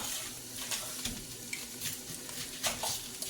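Onion sautéing in a pan for potato soup, a steady close sizzle and frying hiss with light stirring scrapes throughout.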